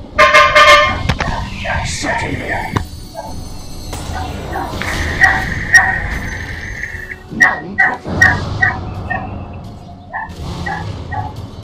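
A garbage truck honks repeatedly in Dota 2, a run of horn toots sounding over busy game effects and a barking-like cue, with a player talking now and then.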